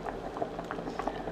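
Potatoes and carrots simmering in a pot of water over medium heat, a soft steady bubbling with small pops, faint and close, no voices.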